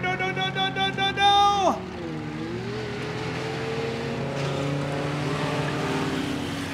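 Engines roar and rev with a falling pitch as a race car passes on a dirt track at Rockford Speedway, then a steady engine drone continues under crowd noise.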